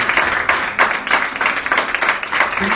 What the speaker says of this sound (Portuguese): Pode aplaudir o Senhor mais forte.